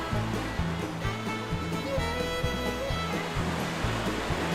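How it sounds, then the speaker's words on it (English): Waves lapping steadily on the shore of Lake Yellowstone at Gull Point, a continuous broadband wash with a rhythmic low churning throughout, loud and close. "Listen to that, those waves."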